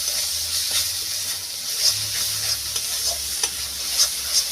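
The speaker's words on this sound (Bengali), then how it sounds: "আদা রসুনের পেস্ট দিয়ে কিছুক্ষণ নাড়ি চাড়িয়ে নিয়ে ভেজে নেব।" Ginger garlic paste sizzles steadily in a hot pan while being stirred, giving a constant close frying hiss with small scraping bumps from the stirring and no voices.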